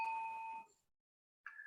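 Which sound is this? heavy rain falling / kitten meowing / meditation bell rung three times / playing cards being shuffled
meditation bell rung three times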